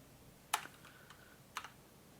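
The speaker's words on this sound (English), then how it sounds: "I'm too busy typing." Two sparse, quiet keystrokes on a computer keyboard, about a second apart, with faint room noise between them and no talking.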